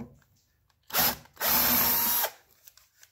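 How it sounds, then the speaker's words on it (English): A power drill cuts off a rivet head on a snow blower auger in two close bursts, a short whine, a brief pause, then a longer steady grinding run that stops abruptly. "So I'll just have to drill off the head of that rivet"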